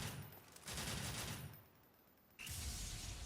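Standard shots from Trish's guns Lucy and Umbra in a video game, delivered as dense rapid bursts of gunfire that break off briefly and then resume, heard alone.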